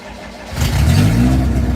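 A rear-wheel-drive Honda car engine cranks briefly, then catches and fires up loud and close, settling into a rough, steady idle.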